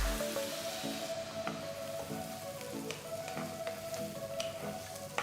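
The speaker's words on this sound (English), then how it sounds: "Saute the onions till they're a nice golden brown color." Finely chopped onions sautéing in oil and butter in a wide kadai, giving a steady close sizzle and crackle with occasional light pops and stirring, no voices.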